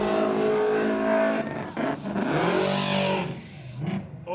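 A BMW does a burnout at the Red CentreNATS event, its engine revving hard with rising and falling wails and tyre roar before the sound drops away near the end.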